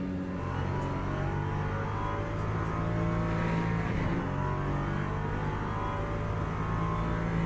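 LMP3 prototype race car lapping Monza in Le Mans Ultimate, a steady, dense engine drone held at near-constant pitch throughout, loud and unbroken with only a slight wobble midway.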